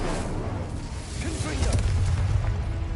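A fire spell is cast in the video game Hogwarts Legacy, giving a low rumbling whoosh and burst of flame that swells steadily over three seconds, with a voice calling out partway through.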